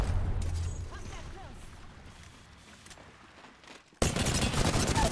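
Video game gunfire from Apex Legends on the Kings Canyon map: faint distant shots and rumble build toward a sudden loud burst of rapid automatic fire near the end.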